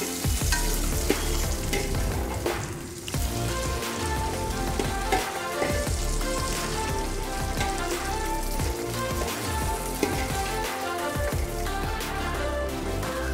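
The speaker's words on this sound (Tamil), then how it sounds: "அப்புறமா நம்ம எடுத்து வச்சிருக்கிற உலத்திராட்சியும் அதில் போட்டு வறுத்துக்கப்புறம்" Raisins frying in a pan while making mixed fruit payasam give a steady, close sizzle with light stirring scrapes running throughout, no voices.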